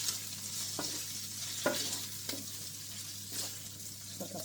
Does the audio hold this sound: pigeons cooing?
no